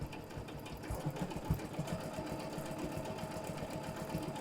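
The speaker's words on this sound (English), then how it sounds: "So I can sew at a slow speed and get good stitches, or I can speed up my speed" A Janome sewing machine stitches steadily at an even speed. It makes a continuous rapid mechanical chatter with a low thumping rhythm, close and fairly quiet, with no talking.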